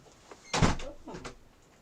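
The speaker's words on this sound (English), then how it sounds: "With the door closed." A door closes with one soft, muffled thud, followed by a faint second knock as it settles, heard close in a quiet room.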